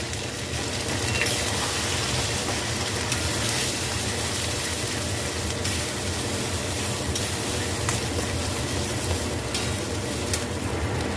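Mashed giant taro paste fries in a pan under a loud, steady sizzle, with stirring scrapes running through it.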